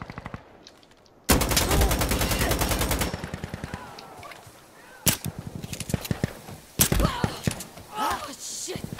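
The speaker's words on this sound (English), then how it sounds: "Surprise AK, haha." An AK rifle fires in Insurgency Sandstorm, a loud sustained full-auto burst followed by several shorter bursts and single shots at close range, with players talking and laughing over the gunfire.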